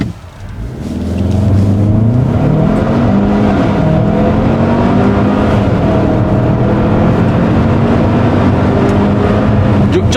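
A 2022 Hyundai Santa Fe six-seater with traction control switched off accelerates hard from a standstill in sport mode, the engine note climbing steadily and loudly through gears, close and continuous with no talking.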